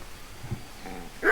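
A dog in the Kingdom Come Deliverance video game gives a short bark or yelp at the very end, loud and close after a quiet stretch of low background noise.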